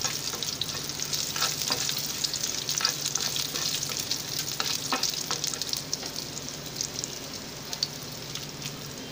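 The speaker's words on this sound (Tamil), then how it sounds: "அந்த வரமிளகாவை வந்து அதில் போட்டுருங்க" Dried red chillies tempered in hot oil for a Tamil buttermilk curry, giving a steady, busy sizzle and crackle with occasional sharper pops and stirring scrapes throughout, close and continuous with no talking.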